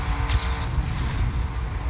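The desert car in the Trackmania video game hums with a low, steady engine drone at moderate volume, with a brief rushing swell near the start.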